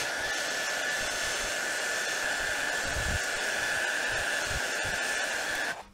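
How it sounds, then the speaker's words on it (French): A hair dryer blows in a steady, loud whoosh with a constant high whine over a cold chocolate royal cake, then cuts off abruptly at the end. "on va s'aider d'un sèche-cheveux"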